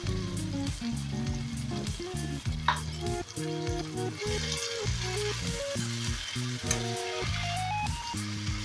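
Pumpkin greens fry with turmeric and salt, giving a steady soft sizzle with light stirring scrapes, half buried under continuous melodic background music.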